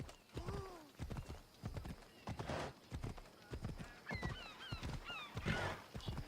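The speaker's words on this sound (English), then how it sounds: "You can now see me riding a horse." Horse hooves clip-clop in a steady galloping rhythm while riding in Assassin's Creed Odyssey, loud and close, with whinnies and neighs breaking over the beat and a few high bird-like chirps later.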